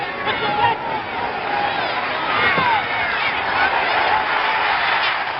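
Capacity stadium crowd roaring and cheering during a 1975 NASL soccer match between the New York Cosmos and Seattle Sounders in Seattle, a steady dense wash of voices swelling slightly, with whistles and shouts mixed in.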